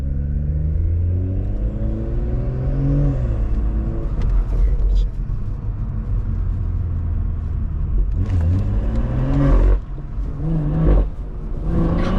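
A Stage 2+ tuned BMW 340i engine growls and revs up and down nearby, rising in pitch with each push of the throttle, loud and continuous with some road rumble.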